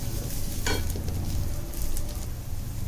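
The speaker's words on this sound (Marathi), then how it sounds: "हे आता छान लाल होईपर्यंत आपल्याला परतून घ्यायचं आहे." Onions, garlic and ginger sautéing in oil, with a steady close frying sizzle and a brief stirring scrape partway through.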